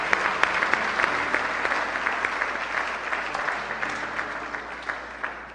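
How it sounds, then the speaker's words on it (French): A church congregation applauds continuously during a sermon, with dense, steady clapping that stays loud and close for the whole stretch and almost no voices over it. "Applaudissez Seigneur plus fort s'il vous plaît."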